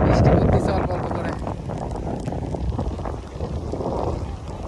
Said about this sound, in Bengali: বাতাসও হচ্ছে বেশ